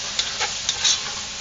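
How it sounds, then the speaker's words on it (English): Ground cumin stirred into lamb sizzling in a pan for a Lebanese lamb pizza: a soft steady hiss with a few brief scrapes of a utensil, close and fairly quiet. "So I'm going to get the cumin in there and then stir this up some"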